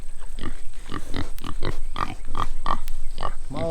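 Pigs on a farm under hickory trees give a steady run of close, repeated grunts and oinks, about eight or nine bursts in quick rhythm, with a faint higher squeal near the end.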